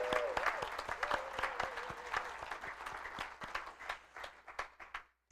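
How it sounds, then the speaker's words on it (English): Church congregation applauding, dense clapping that gradually thins into scattered individual claps before stopping, with a voice briefly heard early on. "Give them another round of applause."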